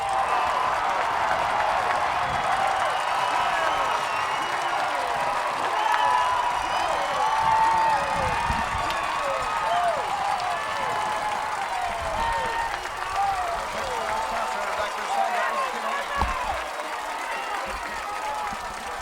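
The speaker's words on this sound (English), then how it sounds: "Let's listen to the crowd." Football crowd at a 2007 high school game, Weslaco vs. San Antonio Madison, cheering steadily after a Weslaco Panthers touchdown, with dense applause and shouting filling the stands for the full stretch.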